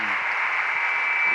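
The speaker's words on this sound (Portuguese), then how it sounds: "Vamos aplaudir ao Senhor pela vida do pastor." A church congregation at a live Sunday service applauds in a dense, steady wash of clapping that lasts the whole moment without a break.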